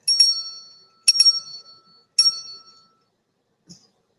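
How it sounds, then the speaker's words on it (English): A small cleansing bell rings three times in an even rhythm, each bright metallic ding decaying before the next, then a faint tap follows in a quiet room. "I got my little cleansing bell."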